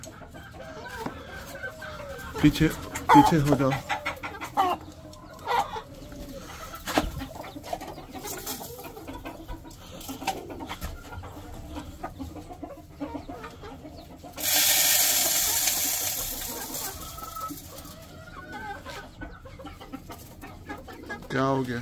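Farmyard chickens cluck and a rooster calls while being fed grain, scattered nearby clucks with rustling and a burst of loud hiss midway, as a person talks at times.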